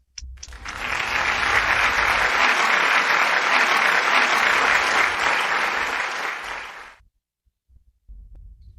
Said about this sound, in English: With a big, big round of applause